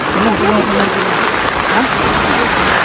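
Heavy rain pouring on a mountain trail on Mount Merbabu, a loud dense continuous wash of water, with people talking over it.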